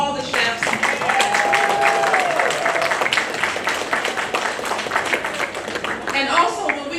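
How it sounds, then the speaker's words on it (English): A crowd at a retirement celebration claps steadily in sustained applause for the chefs, with a few voices heard over the clapping. "everybody give a round of applause for all the chefs."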